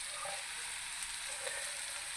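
Pieces of gandi fish fry in coconut masala in a covered pan, giving a steady, dense sizzle that holds at an even level from start to finish.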